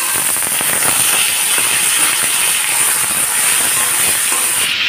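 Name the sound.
chickpeas frying in oil in a pan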